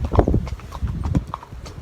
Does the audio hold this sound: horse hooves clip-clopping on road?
yes